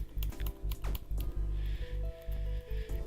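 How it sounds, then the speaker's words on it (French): Laptop keys clatter in quick bursts of presses, close and fairly faint, with short pauses between clusters over a low background hum. "il faut bourriner A et E."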